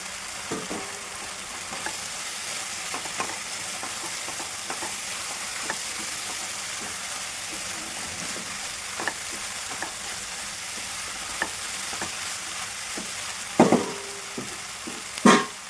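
Ridge gourd curry with fried dried prawns sizzling steadily in a pan over medium heat, a continuous soft frying hiss with occasional stirring scrapes and a couple of louder clinks near the end, no talk.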